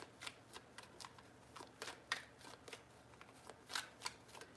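Tarot cards being shuffled by hand, three rounds of quick riffling and sliding bursts, close and fairly quiet with brief pauses between them.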